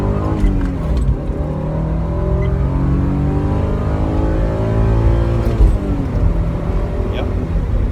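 A Porsche 944 with a performance chip pulls hard in second gear from a stop sign, its engine note climbing steadily and loudly from inside the car before easing off near the end.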